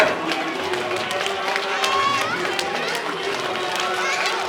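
Yoga camp group running on the spot while clapping, a dense, steady patter of footfalls and scattered claps from many people, with crowd chatter and an instructor's voice over it.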